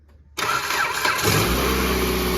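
A car engine cranks and catches after a power steering pump and lines replacement, then settles into a steady, close, loud idle.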